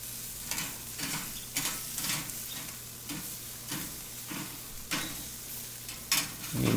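Food sizzles steadily in a Weber Deluxe grilling basket on a grill while it is stirred in regular rhythmic scrapes about every half second, a close, moderate crackle with louder metal clatters near the end.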